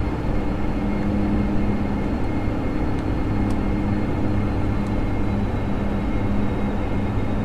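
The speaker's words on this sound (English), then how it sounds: "I'll let the plane bleed off its speed now by idling it" Dash 8 Q400 turboprop engines idle in the FSX flight simulator, a steady droning hum with a faint tonal whine, constant and unbroken throughout.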